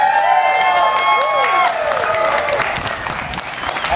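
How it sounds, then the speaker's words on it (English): An outdoor crowd at a Canada Day celebration in Barrhaven cheers and claps loudly and steadily for about four seconds, with whistles and shouts rising above the broad roar. "let's have a great big cheer"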